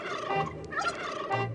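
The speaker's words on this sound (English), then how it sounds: "rubber duck that gobbles like a turkey." A rubber duck toy gobbles like a turkey, giving a rapid, warbling gobble that repeats twice in close, loud succession over a little background noise.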